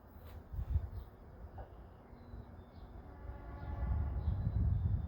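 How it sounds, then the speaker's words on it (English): A passing train rumbles at a distance, a low steady roar that swells toward the end, with faint squeals and a hint of horn at the start. "And the train is making all that damn noise."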